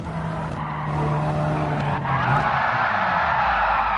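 A race car in a racing game spins out after hitting the curbs, its tires squealing in a sustained loud skid over the engine's steady drone, close and continuous.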